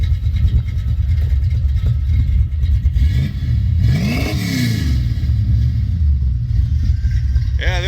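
Mopar 340 engine in a 1970 Plymouth Duster racing car running, a loud low rumbling idle with a swelling rev in the middle, close by and continuous.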